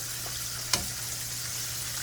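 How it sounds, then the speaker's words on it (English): Chicken strips fry in hot oil with a steady, even hiss and sizzle, plus one brief sharp crackle partway through. "Okay, back to the sizzle."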